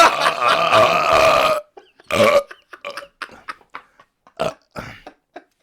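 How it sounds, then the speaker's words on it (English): One long, loud, deep burp rolls out for over a second, followed by a scatter of short breathy gasps and mouth sounds from the same person. "I really have to burp."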